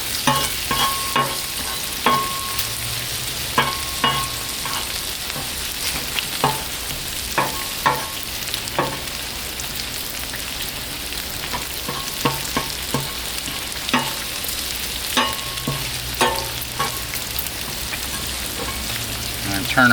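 Ground beef frying on a flat Blackstone griddle, a steady close sizzle broken by repeated sharp scrapes and taps of a metal spatula, with no talking.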